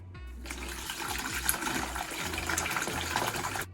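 Water pours steadily into a blender, a continuous splashing gush heard close up with a low hum underneath.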